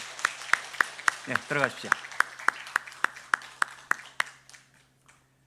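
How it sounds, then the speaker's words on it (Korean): A crowd claps steadily for several seconds, sharp rhythmic hand claps that gradually fade out, with a brief spoken phrase near the start. "인사드릴 때 박수로 격려해 주시기 바랍니다."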